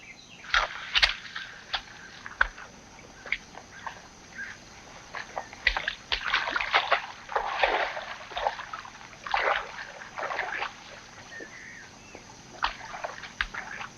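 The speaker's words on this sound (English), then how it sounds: "James, give me a hand with the boat." Water sloshes and splashes in irregular bursts as a small rowboat is shifted about on a river, with occasional knocks and drips, fairly close and quiet.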